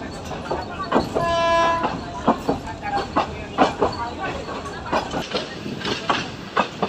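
A slow local train running on rails in Bangladesh near Parbatipur station, its wheels beating a steady clickety-clack throughout with a brief tonal hum, heard from on board amid cabin noise.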